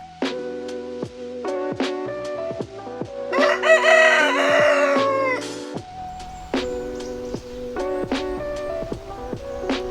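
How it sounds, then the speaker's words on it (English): At dawn on a farm in Sussex, a rooster crows loudly nearby over a steady chorus of chirping birds, with sharp repeated calls ringing through the morning air. "A new dawn, a new day, the birds are singing."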